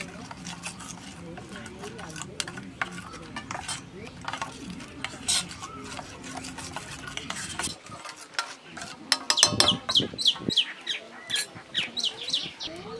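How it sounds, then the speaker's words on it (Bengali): Ground spice paste is mixed by hand with oil and water in a bowl for an egg curry, making wet squelching and clicking sounds that turn sharper and busier toward the end, with a faint bird call in the background. "দিয়ে সব কিছু মশলা খুব ভালো করে মেখে নেবো"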